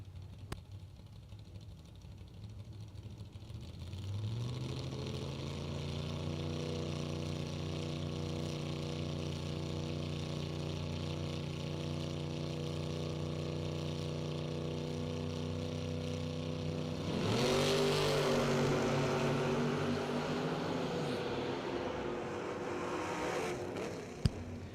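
A drag racing car at a bracket race idles with a steady low harmonic drone, then roars louder and harsher toward the end as it launches, heard from a distance with no talk.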